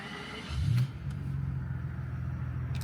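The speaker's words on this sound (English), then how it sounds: "I love a V12 starter." Alpina B12 5.0 V12 engine starting up, a brief starter crank then a low, steady, rumbling idle that carries on evenly, heard close and alone without talk.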